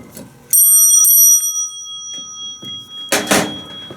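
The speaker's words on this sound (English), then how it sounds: "And it has a bell on it too, so we'll demonstrate the bell." A Houghton elevator floor indicator's bell strikes twice in quick succession with bright, sustained ringing tones, followed by faint handling noise and a brief rustle.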